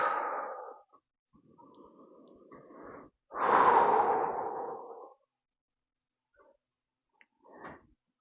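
Breathing during a hatha yoga tree pose: slow, audible inhales and exhales in a few long breaths, fairly close and soft, with quiet gaps between them.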